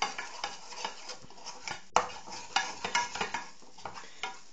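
A spoon works salt and pepper through chopped tomatoes for bruschetta, giving soft, wet clicks and scrapes against a bowl in an irregular close-up rhythm.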